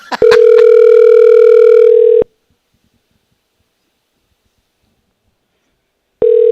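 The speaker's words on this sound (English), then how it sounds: "I hear that phone a ringing." A phone line clicks, then a steady ring tone sounds for about two seconds, falls silent for four, and starts ringing again.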